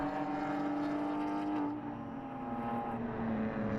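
Race cars lap a road course during a 2013 NASA Miller GTS race, engines droning loudly and steadily with pitch shifts as cars accelerate and pass, and no talk over them.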